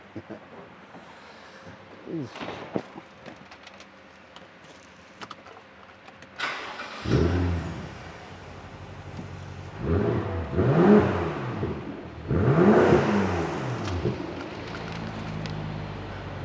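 A BMW turbo V8 with an X-pipe exhaust cranks and fires up, then revs hard in repeated surges, loud and close; quiet talk and clatter come before it starts.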